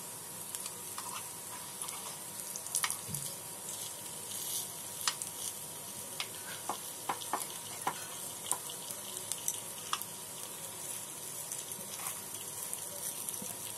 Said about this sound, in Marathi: आप्पे आपण भांड्यामध्ये घातले ना की आपण भांडा फिरवत राहायचा गोल